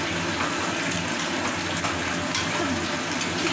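Water pours steadily into a pot of chicken curry as it cooks, a continuous rushing splash at constant level for a few seconds.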